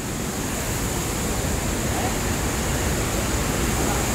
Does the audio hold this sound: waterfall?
yes